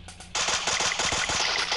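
Gunfire from a shooter video game bursts in loudly partway through and keeps going as rapid automatic fire, dense and close, with no voices over it.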